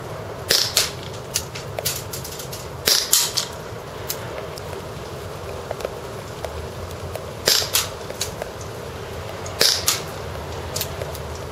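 Marushin Derringer airsoft gun firing at a target at 50 feet: four sharp snapping shots spaced a few seconds apart, each with a quick pop and impact tick, close and clear with no talking.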